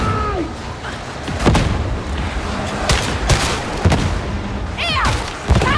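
Grenade explosion and gunfire in the Warhammer Darktide video game: rapid cracks of shots and booming bursts over a dense battle din, with a few shouted voices mixed in, loud and close.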